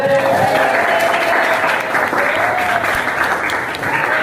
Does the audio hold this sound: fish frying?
no